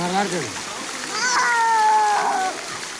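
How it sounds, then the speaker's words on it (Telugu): Children splash and play in a swimming pool, water slapping and spattering close by while young voices chatter and call out over the splashing. "ఇప్పుడు స్విమ్మింగ్ పూల్ లో ఆడుతున్నాము"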